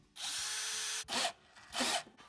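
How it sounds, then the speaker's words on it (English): A power drill boring out a rounded ABS speed sensor bolt on the rear of a Honda Pilot; one long high whine followed by two shorter bursts, close and loud, with quiet gaps between them. "The bolt of the sensor is rounded, or when extractors are too loose, we'll drill this one out."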